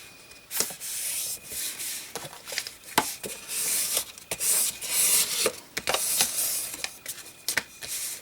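A paper fold in an altered book is pressed flat with a bone folder, giving a series of close, dry rubbing and scraping strokes with short pauses between them.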